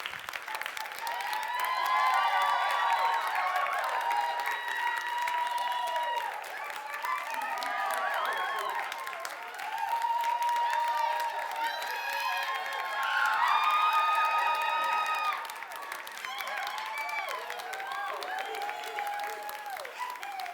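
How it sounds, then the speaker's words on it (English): A live audience at a body language show claps in a long sustained round of applause, dense and steady, swelling twice, with some cheering mixed in. "you guys give them a huge round of applause"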